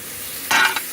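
Food frying on an oiled cheesesteak griddle, a soft steady sizzle that flares louder for a few moments partway through, close by with no talking.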